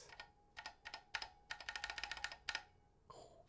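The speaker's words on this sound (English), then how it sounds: "Keyboard is working." Brisk typing on a brand-new, stock Drop Mercury Rocketeer mechanical keyboard with KBDfans Laser switches, a quiet close run of clacking keystrokes in short bursts with brief pauses.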